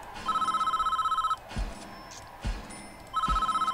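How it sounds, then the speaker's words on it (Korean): A telephone rings in the prison-management video game Prison Architect, two bursts of rapid electronic trilling separated by a pause with a few soft thuds, fairly quiet and without speech. "전화가 오는구만"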